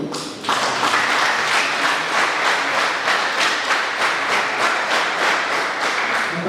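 An audience at a youth exhibition in Rwamagana claps together in a loud, dense, steady round of applause that starts abruptly and holds throughout.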